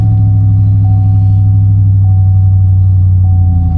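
A cold, cammed Chevy Malibu engine with just over 200,000 miles idles loudly and close with a deep, steady rumble and a faint rhythmic lope.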